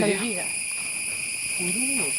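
Loud, constant high-pitched cicada drone fills the forest air at Thattekad Bird Sanctuary in Kerala, with a few bird calls sweeping in beneath it.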